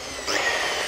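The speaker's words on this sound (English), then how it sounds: "So you see this power tool here, power saw here" A power saw cuts through PVC pipe, a steady high-pitched whine that rises and grows louder partway through and holds for about a second, with no talking.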